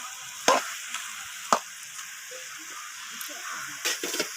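Cabbage cooking down in a pan over a very low flame gives a steady soft sizzle, with a few sharp scrapes and clinks of a spatula stirring near the start and end.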